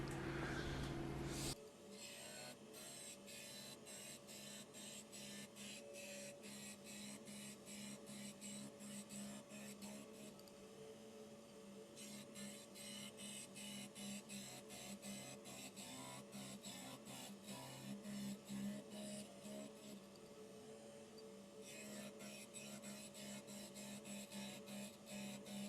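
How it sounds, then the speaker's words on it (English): Surface grinder taking flats off the shank of a carbide boring bar, a steady close whine with a rapid pulsing texture that runs without a break for the whole stretch, no talk over it. "Now we go to the surface grinder and put a new flat on here."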